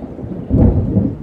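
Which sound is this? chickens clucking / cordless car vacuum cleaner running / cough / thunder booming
thunder booming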